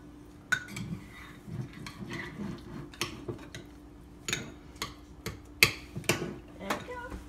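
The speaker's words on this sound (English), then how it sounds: "Stir it all together." Sour cream, avocado and green onion guacamole is stirred in a bowl, with frequent close spoon clinks and scrapes against the dish in an irregular rhythm.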